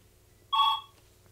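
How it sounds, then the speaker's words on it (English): Telephone ringing once, a short bright electronic trill lasting about a quarter second, fairly close over a quiet low background hum. "I got the phone going here"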